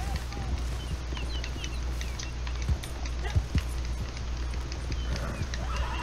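Galloping horse hooves in the video game Red Dead Online, a steady rapid beat beneath constant low rumble with a few louder thumps, while someone talks over it.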